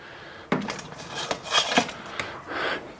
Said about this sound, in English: I'm gonna put some tape out during our rest here